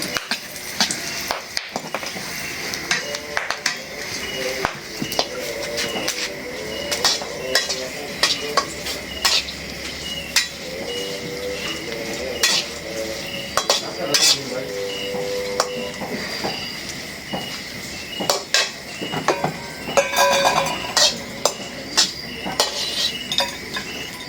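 Chillies fry in mustard oil for an olive pickle, with steady sizzling, stirring scrapes and occasional clinks of a utensil against the pan, close and continuous, with brief background voices.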